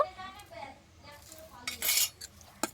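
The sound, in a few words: semolina idli batter being mixed in a bowl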